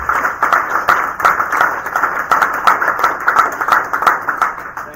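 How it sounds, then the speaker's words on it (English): An audience at a township trustee candidate forum claps for the candidates. The applause is steady and moderately loud, with dense overlapping hand claps sustained throughout and no talking over it. "Let's give our candidates a round of applause."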